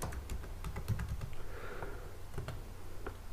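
Fingers type a password on a computer keyboard in quick, uneven bursts of light clicks and clacks, close and fairly quiet, with no talking.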